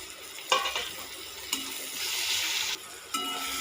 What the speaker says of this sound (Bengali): পেঁয়াজটা হালকা বাদামি হয়ে গেছে এবারে দিয়ে দেব টমেটো